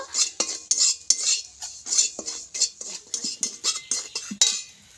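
Semolina and rice flour being roasted in a pan: a spoon scrapes and clinks against the metal in a quick, regular back-and-forth rhythm, close and fairly loud, with no sizzle to speak of.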